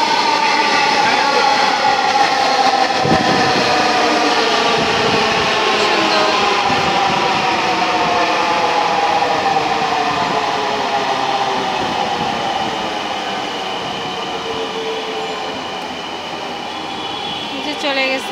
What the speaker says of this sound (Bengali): এই যে আরেকটা আসছে চলে